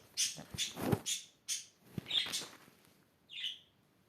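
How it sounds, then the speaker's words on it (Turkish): Birds chirp and tweet in short, bright bursts at a moderate distance, a handful of calls scattered across a few seconds. "Kuşlar da bir bağırıp duruyor valla"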